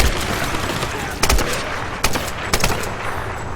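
Gunfire in the video game Tomb Raider, several loud separate shots or short bursts spread across a few seconds over a busy background of game noise.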